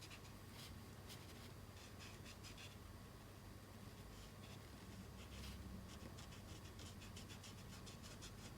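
A pencil colours in a drawing, giving a faint, close scratching and rubbing with bursts of quick strokes over a steady low background hum.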